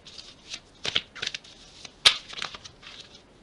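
Tarot cards are shuffled by hand in a series of soft, quick riffles and flicks, with one sharper snap near the middle and no talking.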